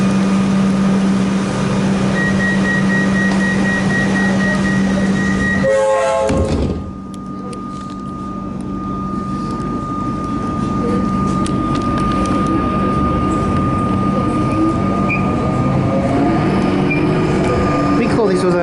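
Inside a moving metro train, a steady rumble of wheels and motor runs throughout, with a whining tone, a sudden rushing change midway and passengers talking over it.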